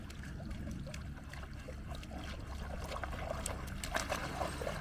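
A dog named Sky swims in a lake, soft continuous splashing and trickling water close by, with faint paddling sounds and no talking.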